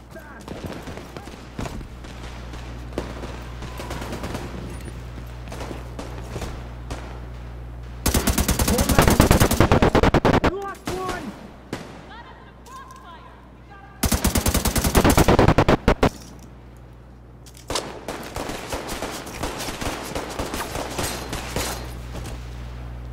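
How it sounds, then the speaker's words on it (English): Bursts of rapid automatic gunfire in The Division 2 beta erupt in loud, sustained volleys, three separate stretches, with quieter game sounds and occasional talk in between. "I hear gunshots."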